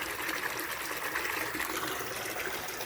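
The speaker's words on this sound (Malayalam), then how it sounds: "ഫിൽറ്റർ ചെയ്തും സ്റ്റോക്കായ മോശം വെള്ളം പോയിക്കൊണ്ടിരിക്കുകയാണ് ഇപ്പോൾ." Dirty water drains steadily out of a household water filter during a backwash, a continuous close rushing gush with no pauses.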